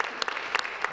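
Applause in a parliamentary chamber during question period: a brief, moderately faint patter of scattered hand claps from a crowd, with a few sharper claps standing out.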